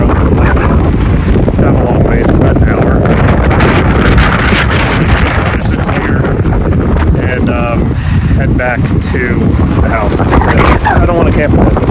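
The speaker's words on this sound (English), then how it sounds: "way too windy." Strong, roaring winter wind on a Colorado river buffets the microphone continuously, with gusting rumble throughout and a voice faintly heard beneath it.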